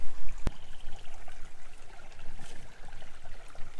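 A creek with a fair volume of water flows steadily nearby, a continuous broadband rush and trickle with one sharp click near the start.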